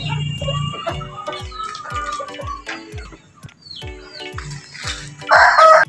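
Rhode Island chickens and many chicks fill a breeding pen with steady clucking and peeping, a rooster crowing among them, close and moderately loud with no talk.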